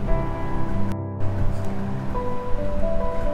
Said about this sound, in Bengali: ততক্ষণ ক্রমাগত নাড়াচাড়া করতে করতে একদম লো মিডিয়াম ফ্লেমে এটাকে ভাজতে হবে।